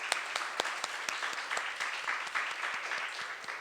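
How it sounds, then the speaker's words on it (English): An audience at a political congress plenary session applauds after a presentation, a steady wash of many hands clapping with sharper individual claps standing out, continuous and fairly loud throughout. "let's give that presentation another round of applause"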